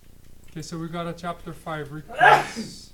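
A single sharp sneeze bursts out near the end, following a few seconds of someone talking.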